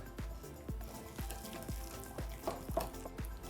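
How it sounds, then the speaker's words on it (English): Pumpkin pie batter whisked smooth in a bowl, steady rhythmic strokes with a soft thump roughly every half second, fairly quiet and close. "And then whisk to form a smooth batter."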